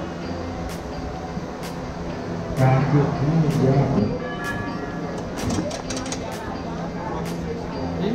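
Corcovado hill train in Rio de Janeiro: a steady mechanical rumble with sharp metallic clicks and a brief louder surge, close by, while people chat nearby.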